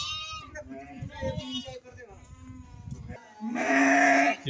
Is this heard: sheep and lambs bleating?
yes